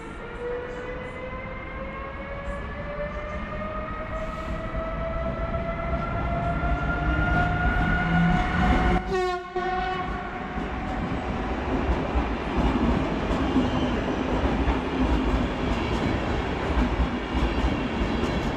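Wawel passenger train pulling out of Wrocław Główny station, with a steady rumbling roll and rising electric motor whine that climbs in pitch, a brief horn-like burst midway, close and loud throughout.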